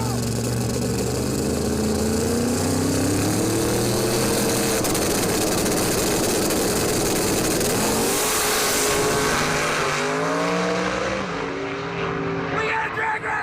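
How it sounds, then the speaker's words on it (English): Drag race cars launching and accelerating down the track at a live racing event, loud engines climbing in pitch through repeated gear changes, with excited voices shouting over the roar. "We got a drag race!"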